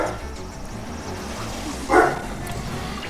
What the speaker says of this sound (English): My dog is barking like a motherfucker.